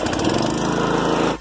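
A Campbell Hausfeld gas air compressor's small engine fires up and runs loud and steady with a rapid rough chug, close by, then cuts off abruptly near the end.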